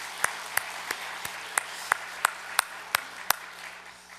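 A church congregation at a Sunday worship service claps in steady unison, about ten sharp evenly spaced claps over a soft room wash.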